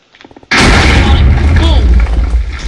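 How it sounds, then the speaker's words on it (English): An anti-personnel mine from a Minecraft explosives mod detonates with a sudden loud boom after a few faint clicks, followed by a heavy, rumbling roar that lingers to the end. "Boom! Explosion."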